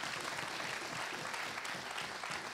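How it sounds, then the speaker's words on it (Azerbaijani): Studio audience applauding on a Transformer-themed car show, a steady dense wash of clapping that holds evenly throughout, close and full, with no voices over it. "Gəlin alqışlayaq."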